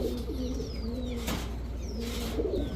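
Giribaz pigeons of the Pakistani Teddy and Lalpatti types, a mated pair, give soft rolling coos close by, with a brief rustle partway through and no voices.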